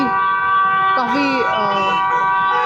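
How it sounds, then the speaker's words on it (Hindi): A scooter horn blares continuously with a sustained, wavering tone, loud and close, over traffic noise. "एक हॉर्न दिया जा रहा है लगातार"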